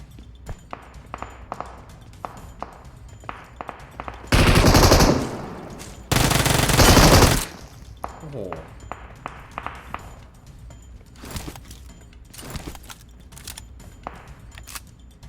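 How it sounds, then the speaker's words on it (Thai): Gunfire in PUBG Mobile rattles as sharp, scattered shots, with two dense loud bursts of automatic fire in the middle and more single cracks and short volleys around them. "มีตัวนอกยิงมานะ"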